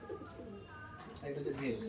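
A female pigeon, all-black plumage, of the Kasmadom or Kaldom kind, coos in low soft repeated bursts close by, with murmuring voices and faint background bird sounds.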